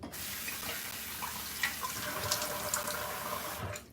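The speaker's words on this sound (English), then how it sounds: "I'm gonna apply a little bit more warm water to my face" Warm water runs steadily from a bathroom tap into a sink during a shave, a continuous close splashing hiss with faint clinks, no talk.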